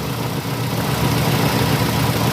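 A Ford Ka petrol engine idles steadily after an oil change, giving a continuous close-up hum with a low, heavy undertone suspected as an odd rough noise.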